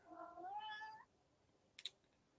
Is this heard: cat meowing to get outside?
yes